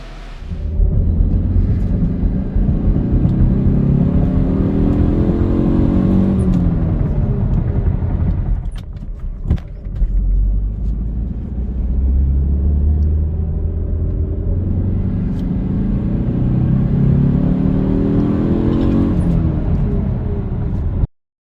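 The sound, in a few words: car accelerating on a drive after Stage 1 ECU tune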